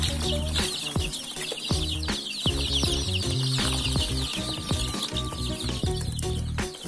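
Young chicks being collected from a farm cheep and cluck continuously in a dense, busy flock, with high chirps layered over lower clucks and occasional knocks and rustling throughout.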